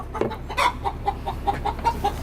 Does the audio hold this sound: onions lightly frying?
no